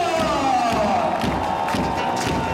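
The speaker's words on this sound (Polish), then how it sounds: "Wielkie brawa dla naszego środkowego Julia Gawina!" A loud arena crowd cheers and applauds a volleyball middle blocker being introduced at a ZAKSA Kędzierzyn-Koźle team presentation, a dense roar of clapping and shouts with an announcer's voice ringing over it.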